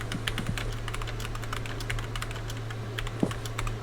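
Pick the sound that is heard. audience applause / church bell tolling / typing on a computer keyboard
typing on a computer keyboard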